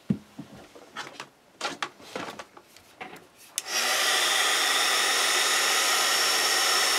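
Handling noises and rustling of a paper craft project, then a heat tool switches on and blows with a steady, loud whooshing hiss that continues uninterrupted.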